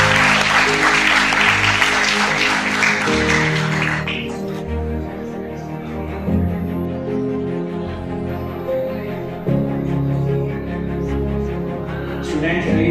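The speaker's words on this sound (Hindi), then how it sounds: "Have a good round of applause for Principal sir." Audience applause at a seminar at GIT Jaipur honouring the principal: loud, dense clapping fills the first four seconds, then thins into scattered claps over murmuring and background noise.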